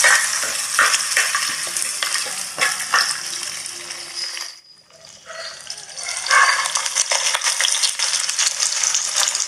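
Garlic, onion and tomato sauté in a pan for a fish curry, with a steady loud sizzle and stirring scrapes, a brief quieter dip midway, then sizzling again, with no talk.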